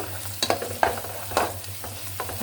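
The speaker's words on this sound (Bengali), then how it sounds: "এটা এখন ভালো করে কষিয়ে নিব মশলাটা" Garlic and ginger paste being stirred and sautéed in a hot pan, with a steady low sizzle and a few distinct scraping stirs of the spoon, close and fairly quiet, no voices.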